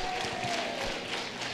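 Audience clapping at a youth robotics competition awards ceremony, a sustained, even patter of many hands from a large crowd with a faint murmur underneath.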